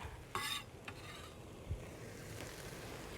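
Garlic and softened onions are stirred in a pot, with a few quiet scrapes and clinks of the spoon over a faint, low sizzle.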